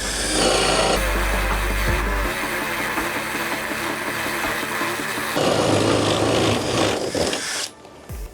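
A Kress KUA71 cordless drill-driver bores into wood in second gear, a steady loud whirring motor with grinding texture that shifts pitch midway and then cuts off near the end, with no talking.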